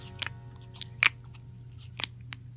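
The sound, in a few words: playing with fluffy clicky cucumber melon slime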